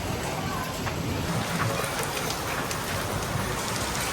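Steady rain falling, a constant dense hiss of drops hitting surfaces, fairly loud and continuous throughout.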